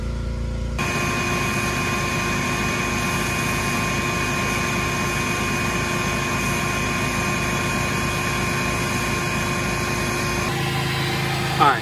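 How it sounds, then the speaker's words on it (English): A vacuum cleaner runs steadily while cleaning the interior of a Mercedes-Benz AMG GTC, a loud constant whine with tonal hum that cuts off near the end. "I'm vacuuming this AMG right now, Mercedes-Benz AMG GTC."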